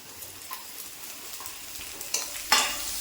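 Sliced onion tipped into a pan of half-fried ginger and garlic and stirred, soft sizzling with scraping stirs building to a louder hiss as the onion hits the hot oil near the end.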